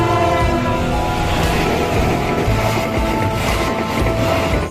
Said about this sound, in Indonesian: Kita ambil lokomotif kereta api Thomas.